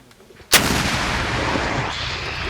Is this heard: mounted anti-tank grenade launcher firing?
yes